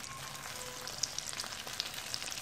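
Vegetarian ribs frying in hot oil in a small pan, giving a steady, fairly quiet sizzling hiss with scattered small pops and crackles throughout.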